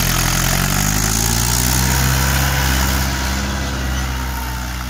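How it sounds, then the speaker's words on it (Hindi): A Mahindra 575 DI XP Plus tractor engine running steadily in a farm field, a loud, close, continuous low diesel drone with a slowly shifting pitch and no talk. "पहले के हाई में ट्रैक्टर स्टार्ट हो चुका है,"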